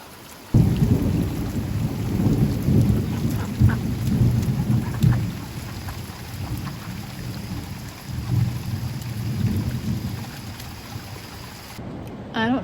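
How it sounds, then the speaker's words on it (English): Heavy rain pours steadily with deep rumbles of thunder rolling underneath, loud and continuous throughout. "It is just raining and raining and raining and raining."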